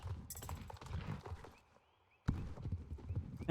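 Horse hooves clip-clop in the online riding game Star Stable Online, a steady run of close, crisp hoofbeats that stops briefly and then picks up again.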